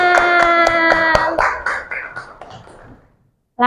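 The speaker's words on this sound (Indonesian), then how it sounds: "Oke, tepuk tangan." A school class claps hands in a quick rhythmic burst over ringing tonal sounds, then the sound thins out and fades to near silence.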